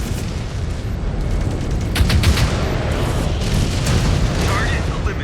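Missile explosions from the MechWarrior 5: Clans video game rumble as a dense, continuous barrage of booms with no clear gaps, swelling slightly louder near the middle and staying heavy throughout.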